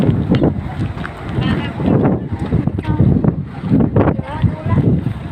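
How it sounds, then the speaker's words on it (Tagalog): Steady buffeting wind rumbles against the microphone throughout, loud and gusty, with a voice speaking faintly underneath. "Mga hangin sa labas."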